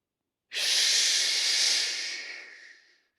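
A single long, deep breath drawn in during a qigong stretching exercise, a close, airy hiss that begins abruptly and slowly fades over about two and a half seconds.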